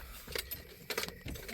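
Keys jangle in the ignition of a 1993 Plymouth Grand Voyager SE van as it is switched off, a few quick close metallic clinks in short bursts with faint vehicle noise underneath.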